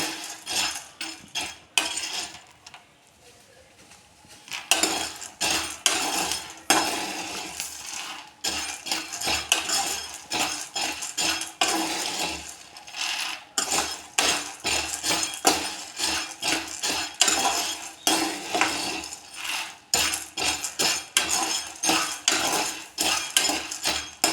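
Chickpeas roast in salt in a pan as a utensil stirs them, giving a dense, gritty rattle and clatter of grains against metal that keeps going with brief pauses and no talking.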